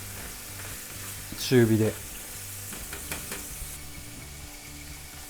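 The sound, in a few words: oysters frying in olive oil in a pan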